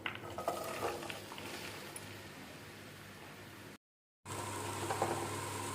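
Sliced onions dropped into hot oil in a frying pan for an egg fry give a soft, steady sizzle with a few light clinks of utensils. A brief silent gap breaks the sizzle before it resumes evenly.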